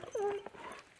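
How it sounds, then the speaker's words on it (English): A small dog whimpers with a short high yip and whine, close and fairly quiet, with little else around it. "Look at that little dog."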